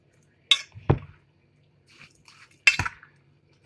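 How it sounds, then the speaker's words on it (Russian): A salad being stirred in a bowl, a few separate wet squishes and utensil clinks spaced across the moment, close and moderately loud against near silence. "Перемешиваем."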